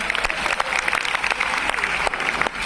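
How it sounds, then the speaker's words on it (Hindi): A crowd claps loudly at a Holi-season comic poetry gathering, a thick continuous patter of many hands that holds steady throughout with no voices on top. "थोड़ा जोरदार ताली बजा के बताओ"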